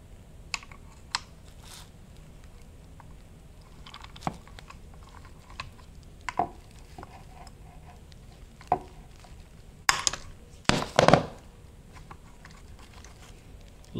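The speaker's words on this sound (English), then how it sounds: "So for this cover, this metal cover here, 10 millimeter bolt." Scattered metallic ticks and clicks as 10 mm bolts come off a metal cover on a 2002 Honda Odyssey automatic transmission being torn down, sparse and close, with a louder cluster of rattles near the end.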